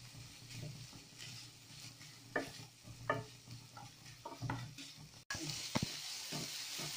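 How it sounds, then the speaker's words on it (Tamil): Fish and vegetables fry in a pan while being stirred, giving a steady low sizzle broken by repeated scraping and stirring strokes, close by with no talk. "காயும் ஃபிஷ்ஷும் ஒன்றா ஒன்னோட ஒன்று நல்லா இது மாதிரி கலக்கி விடுங்க"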